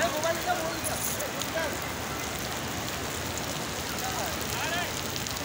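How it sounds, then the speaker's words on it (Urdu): Rain falling steadily in the open courtyard of Masjid an-Nabawi in Madinah, a dense broadband hiss of drops on surfaces that continues throughout, with faint voices from the crowd mixed in. "مدینے کی بارش ہمارے موبائل میں ریکارڈ ہو چکی ہے"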